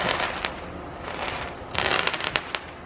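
Fourth of July fireworks going off in the distance over a backyard fence line, a scatter of crackling pops and sharper bangs in irregular bursts, with no talking.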